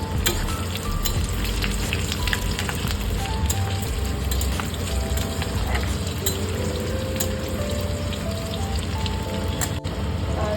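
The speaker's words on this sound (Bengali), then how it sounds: "গোটা মশলাগুলিও ভাজা হয়ে গেছে, এখন আমি কুচিয়ে রাখা আদাটা আর কাঁচা মরিচটা অ্যাড করে দিচ্ছি" Chopped ginger and green chili are added to hot oil already holding fried whole spices for Bengali basanti pulao, producing a loud, continuous crackling sizzle with scattered sharp pops throughout.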